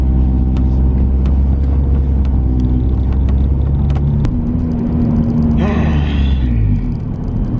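A Honda S2000 roadster drives at night, its steady engine rumble loud and close throughout, with the pitch dropping as it eases off near the end.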